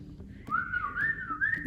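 A person whistles a short, wavering melody close by, starting a moment in and carrying on steadily to the end.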